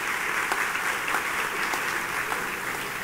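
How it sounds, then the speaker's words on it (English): A banquet crowd at a festive gathering claps steadily for a round of applause, a dense, even wash of hands that holds at a constant level throughout. "give a round of applause for the whole"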